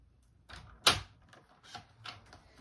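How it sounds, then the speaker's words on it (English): Card paper is cut for a gatefold card: a few quiet, close snips and crisp clicks, with one sharper cut standing out among them. "So I'm just going to cut it really quickly."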